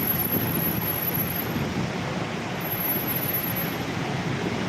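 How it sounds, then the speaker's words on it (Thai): Heavy rain pours down steadily as a dense, even hiss with no breaks, loud and close throughout, with no voices. "ฝนตกแรงแล้วครับ"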